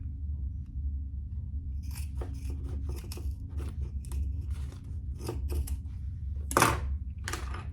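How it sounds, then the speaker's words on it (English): Scissors snip through excess zipper tape in a sewing session, with a run of close, sharp cuts at an irregular pace over a low steady room hum and one louder snip near the end. "I'm going to cut off this excess zipper tape now that I've got that in place"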